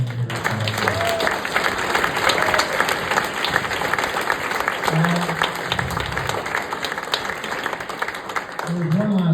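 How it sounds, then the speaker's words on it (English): Supporters at a political rally in Billings break into loud, sustained applause, a dense wash of clapping that holds steady throughout, with crowd voices mixed in underneath. "I want you all to give them a round of applause."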